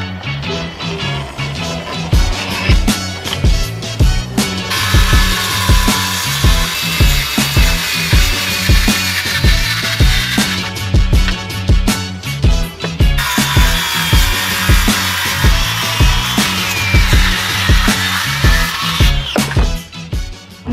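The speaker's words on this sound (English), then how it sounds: "Cut a little off the top of the mount so the outboard sits lower in the water." Loud, continuous whine of a power tool cutting the top off a boat's outboard motor mount, with a rhythmic pulsing undertone and sustained bright noise throughout.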